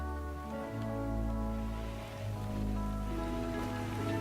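Rain falls steadily in the video game Rimworld, a continuous wash of patter under sustained low droning tones and game music, with no voices.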